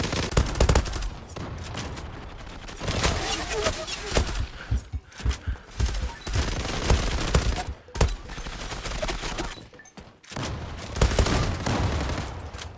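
Automatic weapons fire in rapid bursts with explosive cracks in the online shooter game Zula, loud and close, with someone talking between the volleys.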